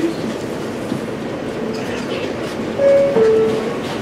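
A Rockaway Parkway bound L subway train rides along with a steady loud rumble, clattering wheels and a brief metallic squeal near the end.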